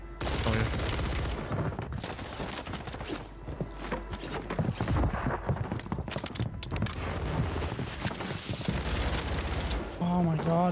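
Gunfire in the video game Call of Duty Warzone crackles in rapid bursts and scattered shots over several seconds, mixed with footsteps and movement noise, while players talk excitedly over it.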